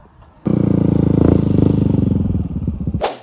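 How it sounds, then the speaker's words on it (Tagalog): A first-version Yamaha Aerox scooter engine with a loud aftermarket TRC exhaust pipe fires up and runs with a rapid, raspy putter close by, then cuts off with a clunk. "Aerox version 1 na may TRC pipe."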